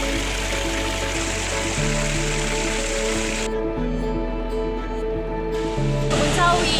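Steady roar of falling water at Blawan waterfall in East Java, a dense continuous rush close by with a low tonal hum underneath, no voices heard.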